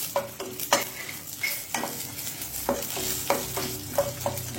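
Coriander seeds and dried chillies fry gently on low heat in a pan, a soft continuous sizzle punctuated by repeated clinks and scrapes of a spoon stirring against the metal, close up with no talking.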